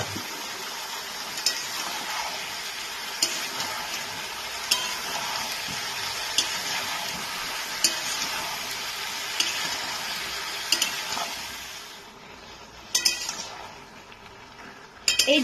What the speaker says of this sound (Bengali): আলুটা একটু ভাজা হওয়ার পর এই ঝিঙেগুলোকে আমি এর মধ্যে দিয়ে দিচ্ছি।